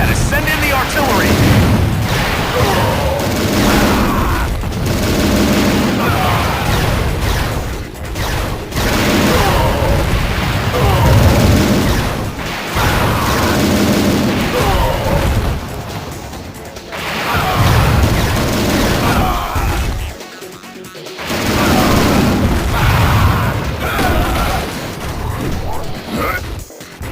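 Artillery fire and explosions in Transformers: Decepticons on Nintendo DS: loud, dense, repeated booms and crashing blasts that keep going almost without pause, with voices talking over the barrage.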